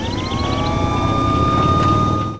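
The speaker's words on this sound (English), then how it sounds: "the sound of an engine roaring and alarms blaring came from the distance" Sirens wail steadily over the low rumble of a roaring engine, loud and sustained throughout, cutting off abruptly at the end.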